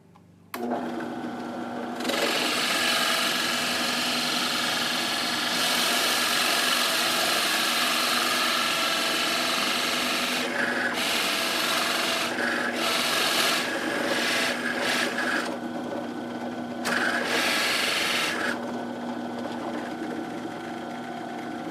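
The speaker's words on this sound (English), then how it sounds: "And we're going to start drilling." A drill whirs steadily as it bores into a wooden fidget spinner, a continuous grinding hum with a few brief dips and pauses in the middle.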